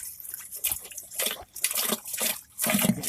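Water from a hose pipe runs into a slow-draining, root-obstructed shower drain, a close splashy gurgle that surges and eases in uneven bursts.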